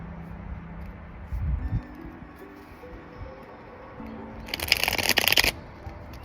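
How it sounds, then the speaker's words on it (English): Two tarot decks and two oracle decks being shuffled, a soft riffle early on and then a louder, crisp burst of cards cascading near the end, close to the microphone with no talking. "I have 2 tarot card decks that I'm using and 2 oracle decks"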